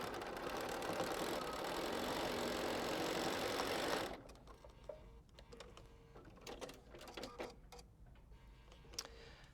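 Sewing machine stitching quilt seams in a steady, close whirring run for about four seconds, then stopping, followed by faint handling clicks and rustles.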